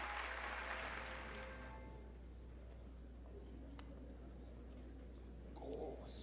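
A crowd applauds after a fight in the Hollow Knight video game, a brief burst of clapping and cheering at the start that quickly fades into a faint, quiet background.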